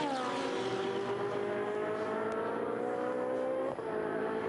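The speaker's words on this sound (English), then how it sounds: "There is the Hanna car going through, and there the Thomas Gostner car." Ferrari Challenge race cars at Mugello, with a loud engine howl holding steady and gliding slightly down in pitch as the cars pass close, one after another, with no talk over it.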